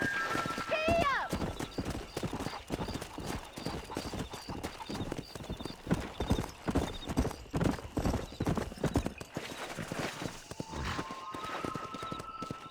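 Horse hooves gallop in a fast, continuous clip-clop rhythm in the Red Dead Redemption video game, with a brief whinny near the start and a voice urging the horse on.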